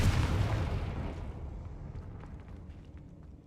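A single Confringo blast spell from Hogwarts Legacy bursts loud and close at the start, then its deep rumbling boom slowly fades away over a few seconds with no talking.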